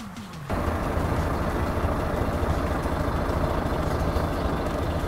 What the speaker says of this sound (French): On va pouvoir avancer le tracteur.